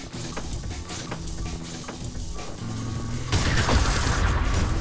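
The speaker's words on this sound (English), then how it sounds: "charge shot does actually do a decent amount of damage" Weapon fire and combat noise in the Ultrakill video game, with a charge shot among it: dense, continuous bursts of gunfire and booms that grow louder and harsher toward the end.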